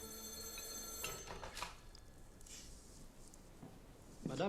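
A telephone rings in an elegant period drawing room, with a bright bell ringing for about a second, then fading behind quiet movement and a soft voice near the end.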